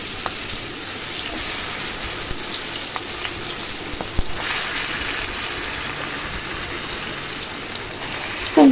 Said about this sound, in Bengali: আমি ঝটপট ঢেলে দিচ্ছি মাখানো মাংসগুলা